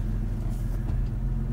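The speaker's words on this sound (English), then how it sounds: "Boy, this car's about to hit me." A car passing close by, a loud low rumble of engine and road noise that swells briefly over a short moment.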